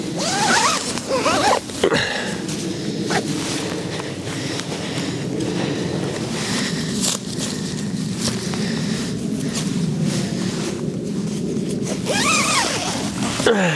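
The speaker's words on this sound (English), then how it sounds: "zip it all back up again" A tent zipper on a Sea to Summit Alto TR2 Plus is zipped closed outdoors in the mountains, a long run of rasping zip strokes, some quick and some drawn out, close to the microphone with light wind noise.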